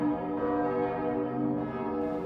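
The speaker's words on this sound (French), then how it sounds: "le clocher, avec différentes cloches fondues en 1771 et 1837, et le bourdon de 3 tonnes" Bells of the Saint-Flour cathedral tower, cast in 1771 and 1837 alongside a three-tonne bourdon from 1881, ring together in a dense, sustained, resonant wash that holds steadily throughout.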